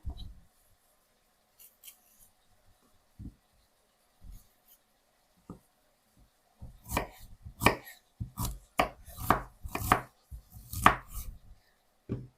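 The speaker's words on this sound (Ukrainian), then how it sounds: "Цибулю нарізаємо дрібненько." Finely chopping onion with a knife on a board: a few sparse knocks at first, then a rapid run of crisp, close chopping strikes, loud and unaccompanied.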